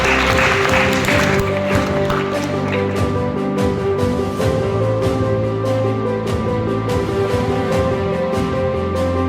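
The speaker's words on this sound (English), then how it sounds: "Please clap for them." A school Earth Day assembly audience claps for dance students, steady broad applause running throughout while sustained music tones play beneath it, no talking.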